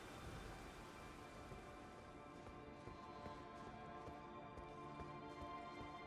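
Steady, faint rainfall in the video game Elden Ring Shadow of the Erdtree forms an even wash of patter that runs unbroken, with no voices.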